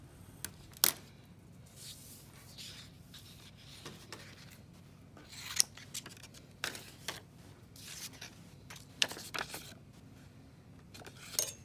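Scissors cut paper to make a skeleton cutout design, with soft snips and rustles spaced irregularly over quiet background and a few sharper clicks, close and fairly faint, no talking.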